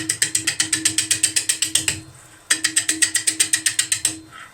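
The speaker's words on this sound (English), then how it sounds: "We're going to be using a bowl gouge with a Celtic grind to do pretty much most of the turning on this piece." A bowl gouge with a Celtic grind cuts a wooden yarn bowl spinning on a lathe, giving a fast, steady train of sharp rhythmic chattering knocks that stops briefly midway and then resumes at the same pace.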